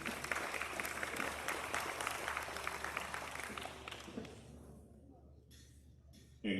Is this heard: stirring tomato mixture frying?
no